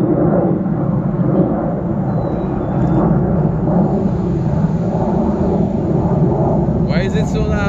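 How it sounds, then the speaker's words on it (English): A very loud airplane rumbles overhead during an outdoor breakfast, a continuous heavy roar that fills the scene, with a few high chirps near the end. "That is a loud plane."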